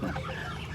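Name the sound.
ducks calling as they approach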